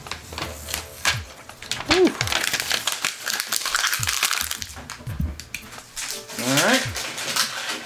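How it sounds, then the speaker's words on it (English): Protective vinyl film is peeled off a Dell Inspiron 15 laptop during disassembly, giving crinkly crackling tears and rustles in irregular bursts, close and fairly loud, with someone talking at points. "I hate this vinyl, but it is quite satisfying peeling it up"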